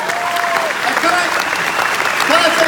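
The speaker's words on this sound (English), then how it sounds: "massive round of applause for you" A food show crowd at the Good Food Show applauds a chef, a thick, steady roar of clapping that lasts the whole moment while his amplified voice carries over it.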